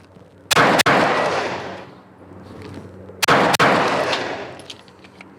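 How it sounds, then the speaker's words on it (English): Pistol shots fired as quick double taps during a split-time drill: two sharp, loud pairs of cracks about three seconds apart, each followed by a ringing decay that trails off. "And the goal of this is to go ahead and see how fast we can shoot."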